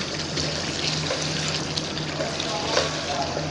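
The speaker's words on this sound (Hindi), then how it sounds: "तो बस यहाँ पे मैं डाल दूँगी 1 कप पानी, इस तरीके से।" A cup of water is poured into a pot of achari beef gosht masala, making a steady, continuous splashing trickle that stays close and even for several seconds, with no speech over it.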